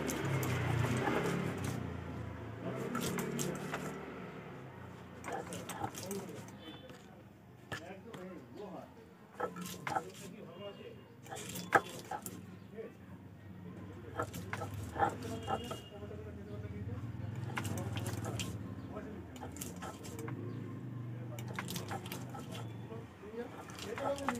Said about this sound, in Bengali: আমার মিক্সিটা খারাপ হয়ে গেছে, তাই জন্য পাটাতেই পেস্ট করে নিচ্ছি।